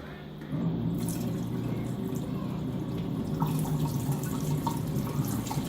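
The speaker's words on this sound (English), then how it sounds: "I'm going to flush it down and slowly add the" A toilet is flushed with a half press after limescale scrubbing, water rushing and gurgling steadily into the bowl at close range, continuing without a break.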